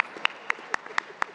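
An audience at a media event claps in a steady, even rhythm, each clap sharp and distinct, fairly quiet and close, with no voices over it.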